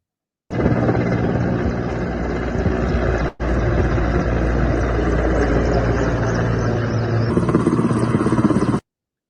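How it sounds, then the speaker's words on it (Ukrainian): Emergency-service firefighting helicopters dropping water on fires produce a loud, steady rotor-and-engine roar that cuts out briefly once, then continues unbroken. "два гелікоптери ДСНС вони здійснили 20 скидів води, щоб е, загасити е, пожежі"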